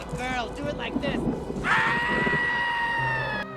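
A long, high scream from the 1997 film Spawn rises after a burst of voices and sustained noise, loud and drawn out before cutting off abruptly.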